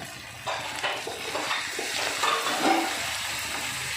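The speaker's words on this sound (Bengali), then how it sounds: "মশলাটাকে ভালো করে একটু কষিয়ে নিচ্ছি" A paste of onion, tomato, turmeric, mustard, poppy seed, cumin and dried red chilli fries in a pan for a fish curry. It sizzles steadily at close range, with stirring scrapes over it and no talking.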